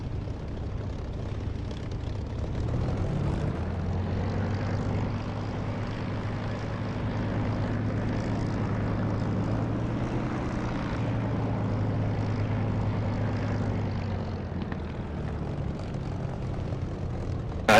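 In DCS, a propeller fighter's piston engine drones as it rolls for takeoff toward the east, a steady low rumble that swells in pitch and strength through the middle before easing slightly, heard alone without talk.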